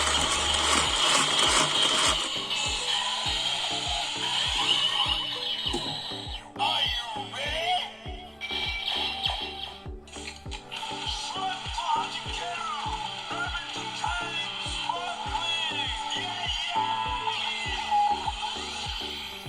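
A Rabbit Tank Sparkling FullBottle toy transformation belt plays a loud, continuous mix of electronic effects, clicking and ratcheting rhythms, and bubbly soda-fizz tones, with a voice talking over it.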